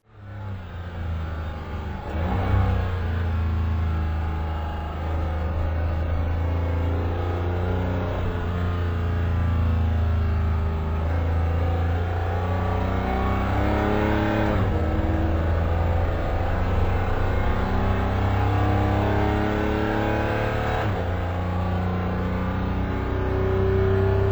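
A race car engine drones loud and close throughout, rising and falling in pitch with repeated runs of acceleration and easing off, no voices.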